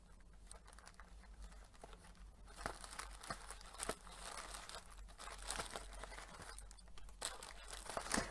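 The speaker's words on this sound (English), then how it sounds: "I think I might be able to get into this twine without cutting it." Twine being worked loose from a wrapped gift box, a steady run of soft crinkling, rustling and small tearing sounds from paper and string close by, growing busier and louder toward the end with no talking.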